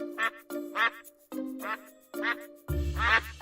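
Ducks quack in a series of five evenly spaced calls, each crisp and close, the last one louder and fuller.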